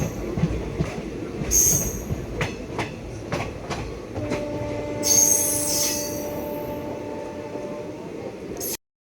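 Loud metallic squeals from train wheels rise over a steady rumbling railcar, with a sustained high whine near the end and scattered clanks, arriving at Palakkad Junction.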